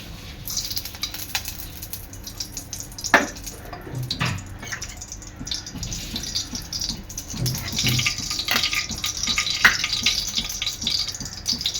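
Grated carrots for carrot halwa being pressed to drain their water, giving soft wet dribbling and patter with scattered light clicks, close by and fairly quiet throughout.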